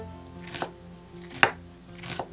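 A knife slices an onion thinly on a cutting board, giving three soft, separate cuts, the middle one the sharpest, close up and quiet, with no talk over them.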